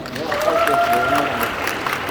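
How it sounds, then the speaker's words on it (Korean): Guests at a wedding clap to welcome the couple, a brief, moderately loud burst of applause with a faint voice or tone running through it. "큰 박수로 다시 한번 환영해 주시기 바랍니다"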